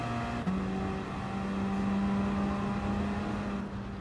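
A Gr.4 race car in Gran Turismo Sport at Laguna Seca drones along at high speed, with a steady engine tone that shifts pitch once and then holds, sounding close and continuous without any voices.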